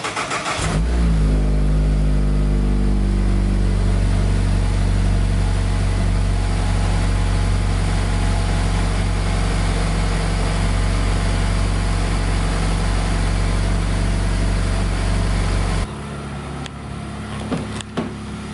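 Mazda 3 fitted with an aFe cold air intake cranks over and fires up, then settles into a steady, loud idle that holds for about fifteen seconds before cutting off.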